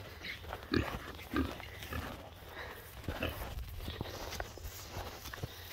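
Pigs out in a paddock give a few low grunts and snuffles among rustling and footsteps, faint and scattered, with no clear talking.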